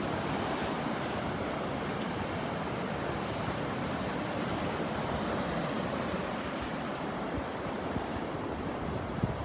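Ocean surf breaks and washes steadily on a sandy beach at Delnor-Wiggins, a continuous roar with light wind buffeting the microphone and no voices.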